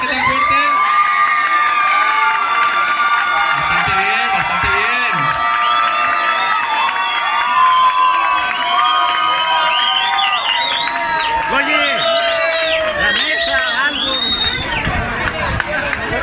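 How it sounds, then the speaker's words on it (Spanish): A loud crowd at a capoeira gathering cheers, whoops and shouts continuously, with many overlapping voices including children's and no break in the noise. "Así que vamos por los aplausos, por favor"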